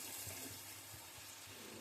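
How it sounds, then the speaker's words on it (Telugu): Water pours steadily into a pan of curry cooking with fenugreek and brinjal, a faint continuous splashing trickle with no other sounds over it. "ఇప్పుడు కొద్దిగా నీళ్ళు వేసుకోవాలండి"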